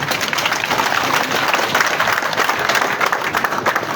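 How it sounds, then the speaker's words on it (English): A large crowd at a live public event applauds the President, steady dense clapping filling the space at moderate loudness with no talk over it. "let's put together a big applause for the President."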